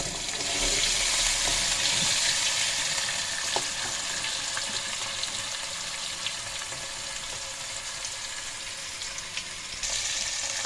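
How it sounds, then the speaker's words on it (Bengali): Potatoes and eggplant fry in a pan, giving a steady broadband sizzle that holds level throughout with a few soft clicks and stirring sounds, no talking. "আলু দিয়ে বেগুনটা একটু ভাজা ভাজা করে নেব।"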